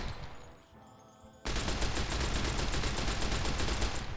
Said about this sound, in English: You can have some machine guns. Have the grease gun, the MP40.